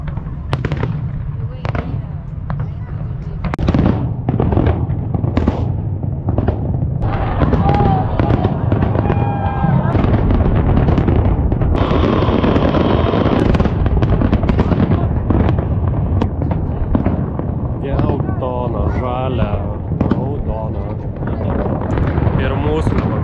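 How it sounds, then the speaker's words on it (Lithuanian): A New York fireworks display bursts loudly and continuously, with dense repeated booms and crackles, wind buffeting the microphone, and people talking and shouting underneath. "čia New York'e fejerverkai buvo"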